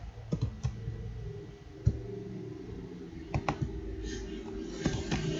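Code being typed on a computer keyboard: scattered soft key clicks in small irregular bursts over a faint background hum, with a voice heard in places.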